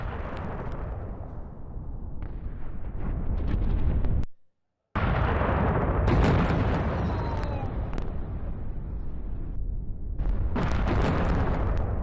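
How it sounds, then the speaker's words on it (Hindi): Heavy, rumbling explosions from air strikes in Karaj, Iran, deep booms and roaring blasts one after another, broken by a brief moment of total silence. "एक के बाद एक धमाके और फिर धुएं का गुबार उठा"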